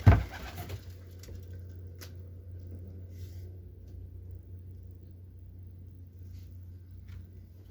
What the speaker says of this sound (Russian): кто из голубей есть кто-нибудь там?